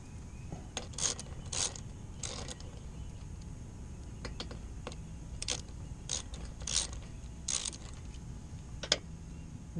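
A 9/16 wrench working a bolt on a boat trailer bunk board, with faint, irregular metallic clicks and short scraping bursts spread across a quiet outdoor background.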